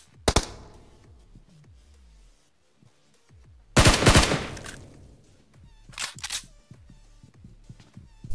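Gunfire in BGMI / PUBG Mobile, heard as separate sharp bursts of rapid shots, loud and close, set apart by quieter gaps with faint game background sound and no talking.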